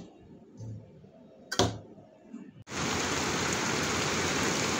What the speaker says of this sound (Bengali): এখন ঝমঝমিয়ে বৃষ্টি নামা শুরু হয়েছে আবার।